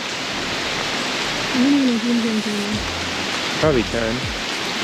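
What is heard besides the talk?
pouring rain in Phnom Penh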